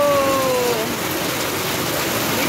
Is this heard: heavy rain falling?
yes